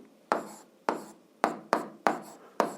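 An algebra equation written out by hand, heard as five close, crisp pen or chalk strokes at roughly even intervals, each a sharp scratch fading quickly into quiet.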